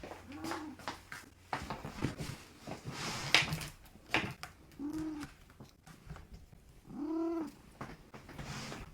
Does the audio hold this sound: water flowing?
no